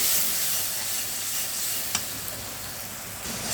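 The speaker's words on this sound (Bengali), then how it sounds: "এই মশলাটা আমি এখন কিন্তু আমি এটা কষিয়ে নেবো" Spice paste for a baila fish curry fries in oil in a pan with a constant, close sizzle, and one brief tap of a stirring spoon is heard.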